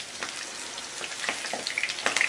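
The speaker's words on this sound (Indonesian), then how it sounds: "Kalau sudah panas, kita masukkan tahunya. Dan kita akan goreng sampai nanti warnanya kecoklatan" Tofu pieces fry in hot oil with a soft, steady sizzle and scattered crackling pops, fairly quiet and close, with no talking.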